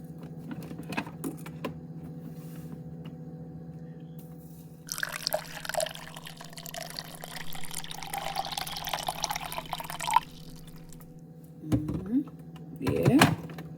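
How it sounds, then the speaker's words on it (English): Hot water poured into a tea cup over a teaspoon of tea mix, a steady liquid rush that runs for several seconds against a constant low hum, followed by a few clinks. "Then I throw my hot water"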